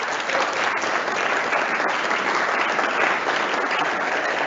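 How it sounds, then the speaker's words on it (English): A small, socially distanced morning audience applauds at the eir evo brand launch event, a steady unbroken patter of clapping that holds at an even level for several seconds with no voices over it. "Big round of applause for them."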